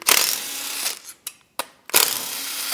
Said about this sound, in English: pull out these 2 screws using our 8mm socket